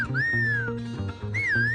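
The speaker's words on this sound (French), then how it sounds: "Ceci n'est pas qu'un sifflement, mais un poème, celui de Pedro García Cabrera." Silbo, the whistled language of La Gomera, carries a whistled poem: clear, sliding high whistles rising and falling in pitch, with a steady low drone pulsing underneath.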